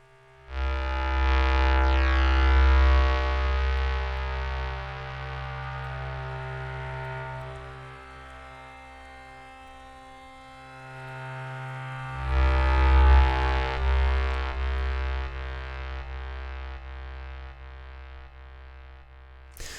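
Bowed Guitar Clouds, a Riot Audio virtual instrument with stacked octave layers, swells into a sustained, hazy drone with a heavy low end, fades mid-way, then surges again with a bright attack.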